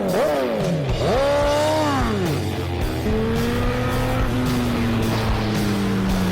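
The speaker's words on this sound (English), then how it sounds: "I really should not be riding this Ducati XDiavel S right now" A Ducati XDiavel S motorcycle is ridden hard, its engine note rising and falling through gear changes with sweeping pitch climbs, loud and close with constant wind rush throughout.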